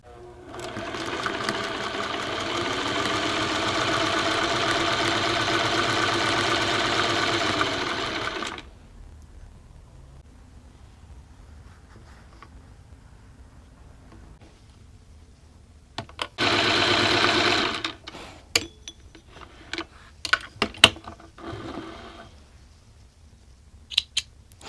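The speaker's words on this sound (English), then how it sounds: "begin stitching my merry way to the other side of the fabric square." A sewing machine runs in one steady, loud burst as it stitches across a fabric quilt square, then stops, followed by quiet rustling and a few short clicks and bursts of handling noise.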